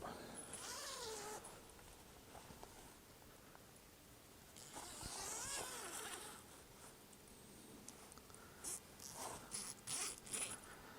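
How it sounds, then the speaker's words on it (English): The built-in bug net on an 11-foot camping hammock is zipped up, giving quick, close zipper rasps in several short bursts against soft rustling of fabric. "That zips up."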